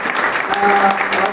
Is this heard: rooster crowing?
no